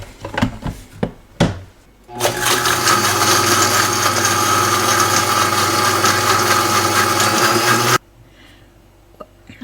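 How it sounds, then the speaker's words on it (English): A Vitamix blender whirs through an apple cider vinegar dressing, a loud, steady motor roar lasting about six seconds after a few short knocks, then cutting off abruptly. "just mix it with the Vitamix or whatever other blender"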